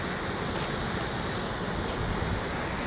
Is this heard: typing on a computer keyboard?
no